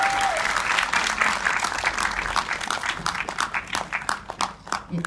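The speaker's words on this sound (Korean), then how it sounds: "뜨거운 박수" Sustained applause from an audience at a film talk event, dense clapping that thins and grows more scattered toward the end.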